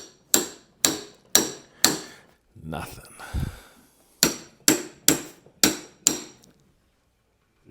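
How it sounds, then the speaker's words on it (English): Sharp hammer taps knocking at a stuck part, four evenly spaced raps, a brief scraping shuffle, then four more quick raps close by, with a faint voice in the gap. "You don't want to really beat it with the hammer and break it, but might just knock it free."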